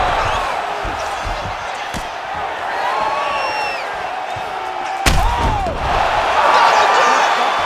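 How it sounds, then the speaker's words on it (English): Crowd cheering in the UFC 5 fighting game, a broad arena roar that swells after a sharp slam and builds toward the end, with whistles and whoops over the top. "Yeah, man, crowd loving it."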